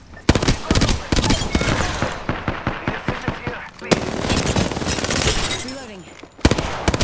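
Apex Legends gunfire rips out in rapid, evenly spaced bursts, loud and close, with a sustained automatic stretch followed by more chaotic shots and a brief whine before fire resumes.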